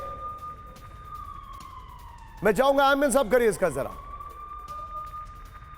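A wailing siren in Udhampur sweeps up and down in the background while someone talks over it on a news broadcast, the tone fading lower near the end.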